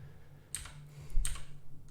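Fingers type on a computer keyboard in a quiet room, two short bursts of soft clicks about a second apart, close and faint.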